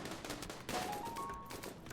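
Quick bursts of gunfire in the video game RimWorld crackle in a short rapid volley, fairly quiet and mixed with a rising electronic tone.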